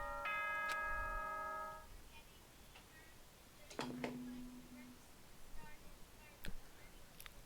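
Announcement chime from the video game Danganronpa: Trigger Happy Havoc: a bright, bell-like multi-tone ding rings for about two seconds at the start, then fades into a quiet background with a few faint tones and clicks.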